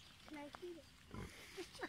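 A nursing sow full of milk grunts in a few soft, short snorts close by at a low level, with bits of quiet talk in between.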